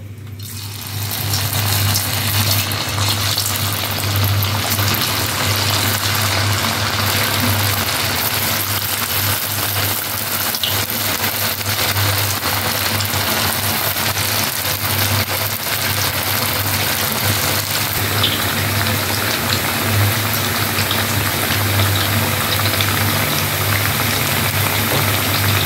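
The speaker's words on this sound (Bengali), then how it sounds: "বাকি বেবিকর্ন গুলোকে আমি এইভাবেই ভেজে নেব।" Baby corn pieces coated in cornflour and spices deep fry in hot oil with a loud, dense, continuous sizzle over a low steady hum, unbroken from start to finish.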